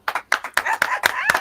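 A small group claps in a quick, rhythmic round of applause during a talk-show guest introduction, six or seven sharp, close claps spaced evenly, with some voices mixed in.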